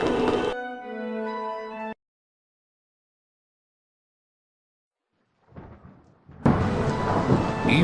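A thunderstorm in the Harry Potter and the Prisoner of Azkaban PC game: a rumbling burst, then several seconds of silence, then thunder swells back in as a loud, dense roar.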